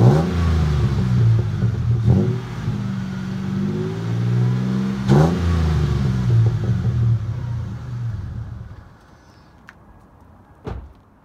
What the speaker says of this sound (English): TRD catback exhaust sounds.